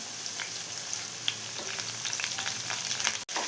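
Chopped shallots and curry leaves frying in a pan for a coconut-milk fish curry, an even close sizzle with light stirring ticks and a brief dropout near the end.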